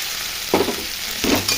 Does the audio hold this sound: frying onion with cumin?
yes